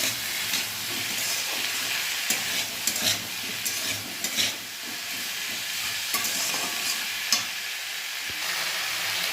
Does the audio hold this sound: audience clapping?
no